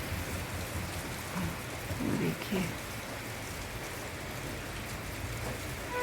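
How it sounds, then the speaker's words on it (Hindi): Steady, dense monsoon-style rain pours down, a constant hiss with a brief soft rumble of thunder partway through and a voice speaking a few words over it, before dawn. "इतनी तेज़ बारिश हो रही है, बहुत तेज़ बारिश हो रही है."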